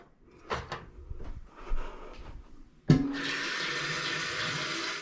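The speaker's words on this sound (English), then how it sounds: "Now you're going to bring the water up about halfway through the vegetables." Water pouring into a pot of vegetables for stuffed peppers, a steady splashing stream that starts abruptly after a few soft knocks and clatters and runs on to the end.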